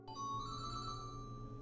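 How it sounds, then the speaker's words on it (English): A telephone rings indoors with a steady electronic tone that holds throughout, fairly faint. "That's the phone."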